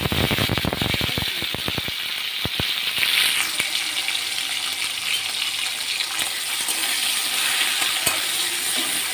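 Five-spice seed tempering dropped into hot oil for a biulir dal, a quick cluster of sharp pops and crackles at first, easing into a continuous bright sizzle with an occasional late pop.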